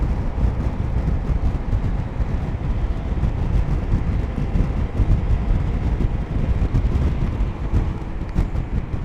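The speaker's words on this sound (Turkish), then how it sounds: "Çok fazla rüzgar var." Strong wind roars and buffets the microphone without pause, a dense, rumbling gusting noise filling the whole stretch.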